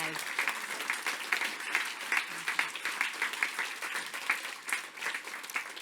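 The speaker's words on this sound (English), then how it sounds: "please could we give them a round of applause" A crowd at a Labor political event gives a sustained round of applause for two honoured guests, dense clapping with rhythmic surges, steady throughout and without a break.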